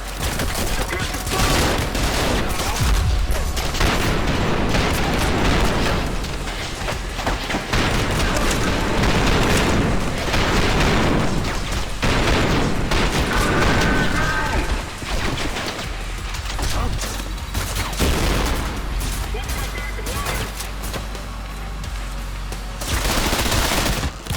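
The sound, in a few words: gunfire from a powerful gun in the video game Trepang2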